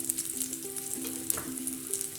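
Potatoes fry in a pan for a pepper potato masala dry curry, a constant close sizzle and crackle with faint scraping stirring ticks mixed in, no voices.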